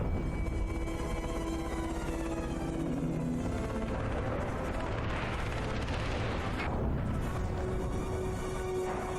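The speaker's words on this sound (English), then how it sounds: "Can't even see the dude shooting." Gunfire and heavy booming blasts from Far Cry 3 fill a dense, continuous wall of battle noise with rumbling explosions and an aircraft drone, loud throughout with no clear separate shots.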